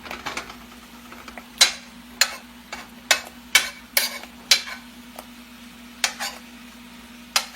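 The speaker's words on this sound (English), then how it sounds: "Sausage cooking in the back." Sausage frying in a pan on the stove throws out sharp, irregular crackling pops over a quiet background hum, loud and close, with no one talking.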